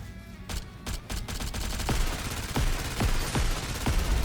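Gunfire in the shooter game NIKKE during a solo raid: a rapid run of close, punchy shots in quick succession over a dense, rumbling game soundscape, with no talking.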